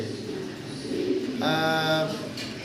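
Pigeons coo at a pigeon farm in Bangladesh, a soft throaty coo rising near and clear for about a second over a steady, noisy background.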